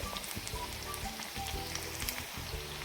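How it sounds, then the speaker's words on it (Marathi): Dal batti frying in hot oil, a steady crackling sizzle with fine pops running continuously throughout, fairly close, with no talking over it. "थोडासा असा लालसर रंग येईपर्यंत आपण बट्ट्या तळून घेऊया"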